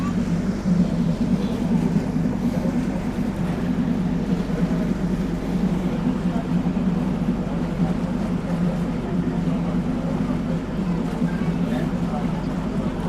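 Loud, steady engine drone and rumble at the stern of a boat at Magic Kingdom, constant throughout with water noise, close by; a voice speaks faintly underneath.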